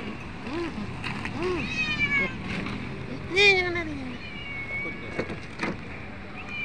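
Several short, rising-and-falling cat meows come one after another, mixed with a person's voice and a steady low background rumble.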